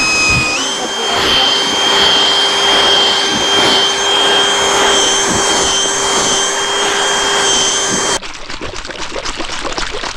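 A Redverk cordless drill spins a mixer through fishing bait, giving a loud, steady whine with a constant pitch for several seconds before it cuts off into softer, choppy stirring noise.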